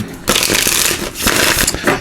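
Tarot cards being shuffled by hand, several quick bursts of riffling and flapping, loud and close, with short pauses between.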